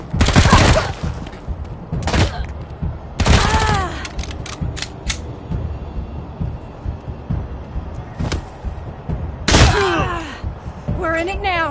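Wasteland 3 combat on Ranger difficulty: several loud bursts of game gunfire ring out at separate moments, short sharp volleys and one longer fusillade, with other clattering combat effects and voices in between.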